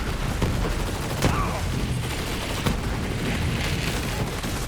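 Rapid SMG gunfire in the video game Borderlands 3, fired with a Zane build, crackling in dense bursts over a busy combat mix with a few louder booming shots standing out.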